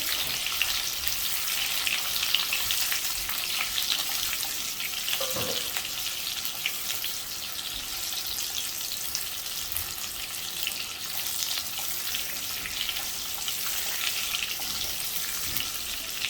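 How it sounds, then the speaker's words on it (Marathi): Stuffed bitter gourds fry in oil in a pan, giving a dense, even sizzle that holds steady throughout, close and moderately loud, with no speech. "थोडी परतून घ्यायची तेलामध्ये."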